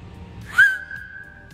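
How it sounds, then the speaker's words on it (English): A single sharp, high whistle blast from a wooden referee whistle that rises abruptly and then holds a steady, piercing tone for nearly a second, close and alone. "tinkering with it and getting it glued so that it makes the loudest whistle possible"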